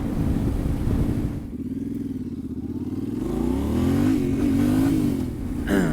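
An XR200 dirt bike passes close by with a rising, buzzing engine note over the steady drone of a Yamaha Tenere 700 motorcycle being ridden, the pitch swelling and falling as it goes past.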